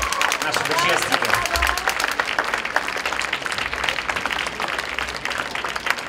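An audience claps steadily for dancers at a youth Latin ballroom dance final. The dense applause fills the hall and continues throughout while a voice speaks over it.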